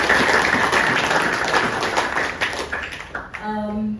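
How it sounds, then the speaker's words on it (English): Audience applause fills a press conference for a Matrix Fight Night event in Delhi, dense steady clapping that tapers off near the end as a voice begins speaking. "So please give them a big round of applause."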